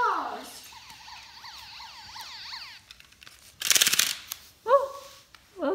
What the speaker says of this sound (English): Look, it's a police car.